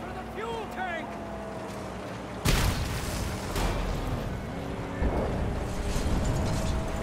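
A fuel tank is shot and blows up in the Mad Max video game: a sudden loud explosive boom cuts through a steady vehicle engine drone, followed by rumbling debris and a second burst, while people talk over the game.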